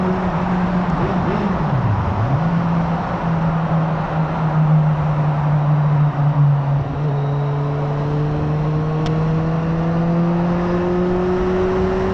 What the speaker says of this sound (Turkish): Alın size tünel sesi.